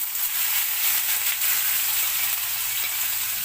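Food fries in a pan until brown, giving a steady, close sizzle and hiss that runs without a break and without talk.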